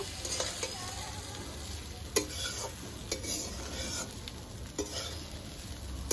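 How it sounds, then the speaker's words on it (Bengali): Flattened rice (chira) is stirred with spices in a pan, with occasional spoon scrapes and light clinks over a steady low sizzle. "এবারে চিড়েগুলো এর ভিতরে দিয়ে দিচ্ছি। সব মশলার সাথে চিড়েটা সুন্দর করে এবার মিশিয়ে নেব।"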